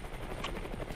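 Helicopter in the video game Brick Rigs, a close, steady rotor and engine drone with a quick thudding pulse running through the short burst.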